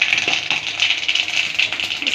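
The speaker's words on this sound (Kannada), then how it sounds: "ಸಾಸಿವೆ ಚಿಟಪಟ ಆದ ನಂತರ" Mustard seeds spluttering in hot oil while tempering for a suvarna gadde (elephant foot yam) stir-fry, a close, dense crackle of rapid pops and hiss throughout.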